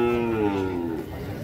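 A cow at a cattle fair in São Benedito, Ceará, gives one drawn-out, close, loud moo that slowly falls in pitch, over a noisy outdoor market background.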